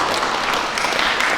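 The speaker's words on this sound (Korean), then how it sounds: "박수로 크게 또 축복해 주시기 바랍니다." A church congregation applauding during a Sunday service in New Jersey, a dense, steady wash of many hands clapping close by, filling the moment alone without talk.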